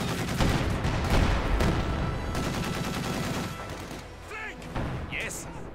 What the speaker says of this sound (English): Now that he possesses some heavy machine gun fire as well.